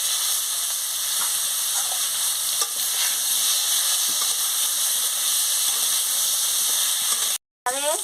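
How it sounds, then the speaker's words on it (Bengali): Cut potato and pointed gourd frying in hot oil in a pan, a steady bright sizzle with occasional soft stirring clicks, cutting out briefly near the end. "এই তেলে আমি আলু পটলটা ভেজে নিচ্ছি"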